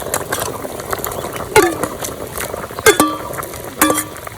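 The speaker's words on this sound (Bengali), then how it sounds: "এবার পনিরগুলো দিয়ে দেবো।" Paneer pieces drop into a simmering curry and get stirred, a few distinct clinks and scrapes of a spoon against the pan over a soft bubbling sizzle.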